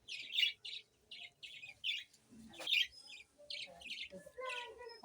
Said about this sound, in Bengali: দেখো পাখিগুলো কেমন চেঁচাচ্ছে